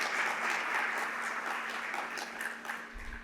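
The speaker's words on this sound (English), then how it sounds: "can we just give PK another round of applause just so that he can hear it now?" Applause from an online audience at a live retail supply chain talk, a steady wash of clapping that holds for a few seconds and then thins out, fairly faint overall.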